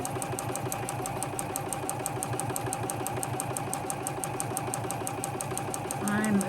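A sewing machine stitches a quarter-inch seam on quilt fabric at a 1.8 stitch length, with a steady, even mechanical whir and rapid rhythmic ticking throughout, close up and fairly loud.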